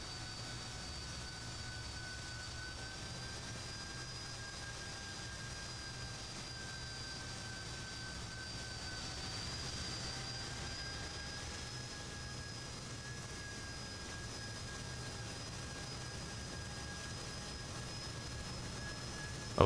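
Fokker F28 jet engines idle on the ground before takeoff in a flight simulator, a steady, unbroken whine with faint high tones over a low rumble, holding level for the whole stretch with no talk.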